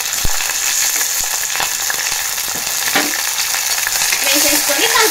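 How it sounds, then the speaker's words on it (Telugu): Mustard seeds, cumin, garlic, turmeric and chillies fry in hot oil for a brinjal and broad bean charu, giving a loud, steady sizzle with light crackles and stirring scrapes throughout. "సో ఆయిల్ వేడయ్యాక ఆవాలు, జీలకర్ర ఇంకా వెల్లుల్లి వేస్తున్నాము."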